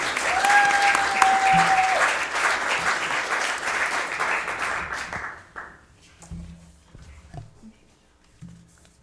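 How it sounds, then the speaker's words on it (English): An audience applauds at a city council meeting, loud sustained clapping that gradually thins out and fades, leaving scattered sparse claps and faint room noise toward the end. "Another round of applause for our Lewiston leaders this evening."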